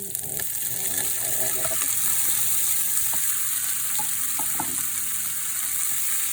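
Marinated pork sizzles and spits steadily in a hot pan for binagoongan, a continuous loud frying hiss with occasional stirring clinks and pops.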